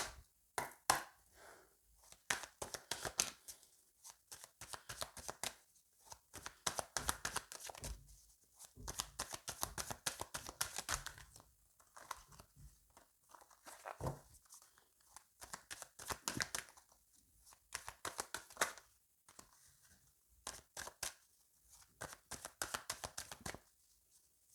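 A deck of tarot cards being cut and shuffled by hand: continuous close riffling, slapping and flicking in uneven bursts with short pauses, quiet overall and with no one talking.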